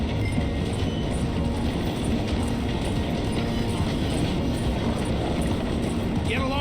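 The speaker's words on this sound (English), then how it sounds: "The train is slowing down to go through the station." A train slows as it rolls through a station in the video game Red Dead Redemption 2, a loud, continuous rumble with rattling wheel clatter throughout.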